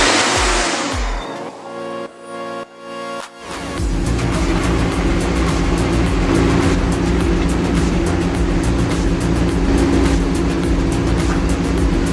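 A 600 HP Kenworth K100 logging truck hauling 22,000 pounds of fresh 23-foot logs strains under the load; after a brief burst of noise and a few dropouts, a loud, deep engine drone settles in and labors steadily.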